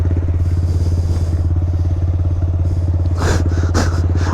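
Honda Grom motorcycle fitted with a Yoshimura exhaust idles close by with a steady, throaty low burble, and two short throttle blips come near the end.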